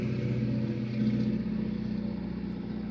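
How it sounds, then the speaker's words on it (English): An ordinary car outside produces a steady low engine drone and hum, heard from indoors. The sound holds a constant level for a few seconds with no talking. "that's just a regular car just making that noise"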